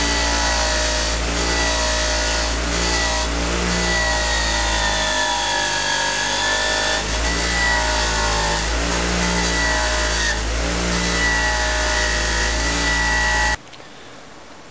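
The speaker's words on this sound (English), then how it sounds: "The next thing is to clean the valves, and we'll do that on a wire wheel." A motor-driven wire wheel cleans Subaru engine valves, a loud, steady whirring drone with rhythmic swells as each valve is pressed against the brush, then stopping abruptly at the end.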